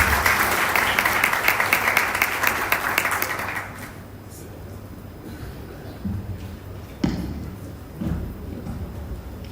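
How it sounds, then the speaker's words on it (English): A round of applause from a conference audience in Nairobi, dense clapping for about four seconds that fades out and leaves a quiet room with a few faint knocks and movements. "And a round of applause, please."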